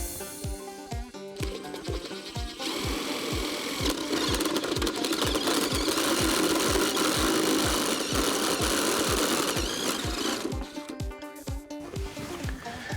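A power drill with a hole cutter runs steadily with a rapid rhythmic chatter as it bites through a ceiling panel between joists, starting and stopping near the beginning and end.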